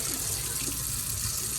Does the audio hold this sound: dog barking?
no